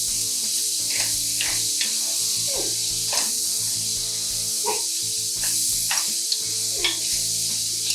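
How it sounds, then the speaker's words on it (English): Vegetables half-sauté in a pan for southwest chicken tortilla soup: an even, hissing sizzle runs throughout, interrupted by intermittent stirring scrapes, over a faint low hum. "We don't want to overcook the vegetables, just half saute them."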